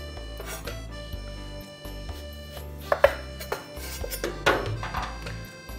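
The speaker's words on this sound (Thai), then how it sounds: "ผมจะหั่นแว่นนะครับไม่ต้องหนามากประมาณครึ่งเซน" A knife slices a lemon into thin rounds on a cutting board, making a series of crisp, irregular chops close by.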